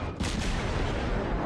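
Naval gunfire from a German cruiser in the video game World of Warships, a dense, continuous barrage of booming shots with a sharp salvo near the start, loud and filling the whole clip with no voices.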